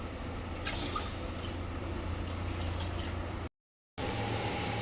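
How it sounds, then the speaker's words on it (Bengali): Hot and cold water is poured during home cooking, a steady wash of running and dripping liquid over kitchen background noise, cut by a brief gap of silence near the end. "গরম জল ঠান্ডা জল দিচ্ছে বারবার"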